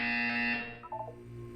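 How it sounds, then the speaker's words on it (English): A buzzer in the Portal 2 video game sounds as a loud, steady electronic tone for about half a second, then cuts off, followed by a few softer blips alone. "You will hear a buzzer."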